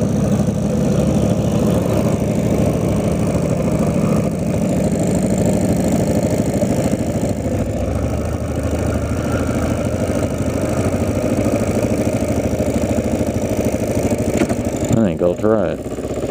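A Kawasaki KLR motorcycle idles close by with a steady, even engine rumble that runs almost unbroken, ending in a brief warbling sweep near the end.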